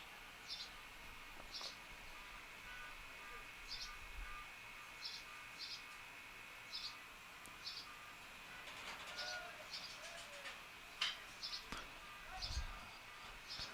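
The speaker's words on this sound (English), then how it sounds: "Sorry if you can hear that bird. It's directly above my head. And it's just going crazy." A bird calls from directly overhead at an outdoor high school baseball game, giving short chirps that repeat in a steady rhythm over a constant background hiss.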